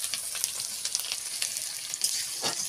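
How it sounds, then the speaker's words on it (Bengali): Onions fry in hot oil in a pan on a clay stove, a close, continuous crackling sizzle with sharp pops and occasional stirring scrapes, no talking. "এখন হচ্ছে গিয়ে পেঁয়াজ ভাজা"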